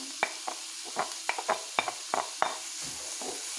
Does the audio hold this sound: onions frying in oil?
yes